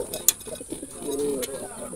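A black Jalali pigeon with fiery red eyes coos in a low, rolling call near the middle, preceded by a sharp click and faint background voices.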